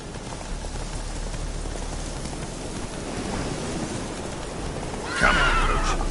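A horse in The Witcher 3 video game gives a loud, close whinny near the end, heard over steady rain falling on the surface throughout.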